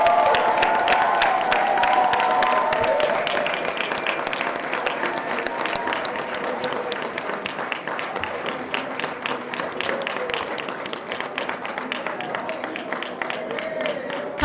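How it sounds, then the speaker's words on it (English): Sustained applause with some cheering from a large crowd celebrating a graduating MBA class of 2019 at a graduation ceremony, loud at first and easing slightly as it continues. "A huge round of applause."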